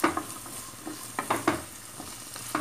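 Finely chopped garlic sautéing in a hot pan, with short bursts of sizzle as it is stirred and scraped, several brief surges over a soft steady frying hiss.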